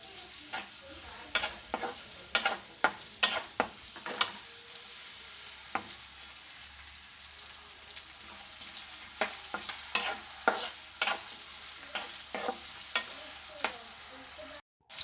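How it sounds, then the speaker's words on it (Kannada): Onions sizzle in about a cup of hot oil in a pan while a spoon stirs them, giving repeated sharp scraping clatters over a steady frying hiss, close and fairly quiet, with no talking. "ಸ್ವಲ್ಪ ಈರುಳ್ಳಿ ಲೈಟ್ ಕಲರ್ ಬರೋ ಹಾಗೆ ಫ್ರೈ ಮಾಡಿ."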